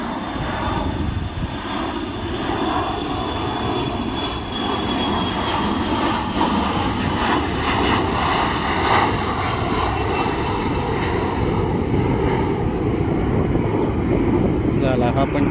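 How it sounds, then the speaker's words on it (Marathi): An airplane takes off from Navi Mumbai international airport, its engine roar loud and sustained across the whole stretch, steady and broad, with people talking faintly underneath. "झाला, हा पण टेकऑफ झाला. दोन विमानं टेकऑफ झाली."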